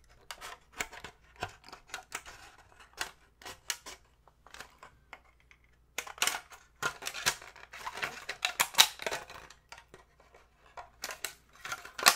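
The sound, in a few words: cutting out Popin Cookin donut molds from packaging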